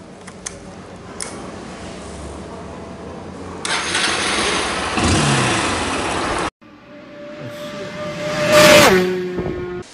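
A car engine cranks and catches, then revs and settles into a steady idle, loud and close, with no talk over it.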